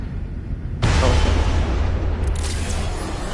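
A loud explosion goes off in Batman: The Telltale Series, a sudden broadband blast with a heavy low rumble that keeps roaring and slowly fades, with a second burst of debris partway through.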